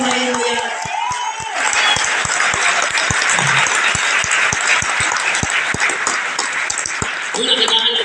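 A church encounter audience claps with a rhythmic, steady beat, mixed with loud cheering and voices at a lively Christian gathering.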